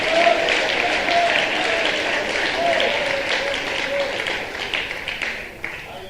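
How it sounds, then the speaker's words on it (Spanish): Church congregation clapping for the Lord at a Spanish-language service, a steady wash of applause mixed with voices and a shout or two, fading somewhat toward the end. "Denle un fuerte aplauso al que vive, al Señor, al Rey de Reyes."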